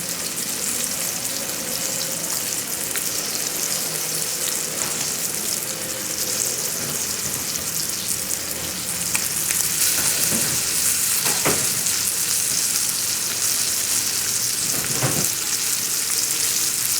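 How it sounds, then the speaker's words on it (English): Eggplant frying in a pan alongside a braised Cornish hen, a loud, continuous hiss of sizzling oil with a few sharper crackles and stirring scrapes, close and without talk. "I'm just putting in the eggplant just for looks"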